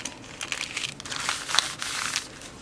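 A sheet of paper for a craft page is folded and creased close by, giving a run of soft crinkling and rustling with a few sharper crackles, and no voices.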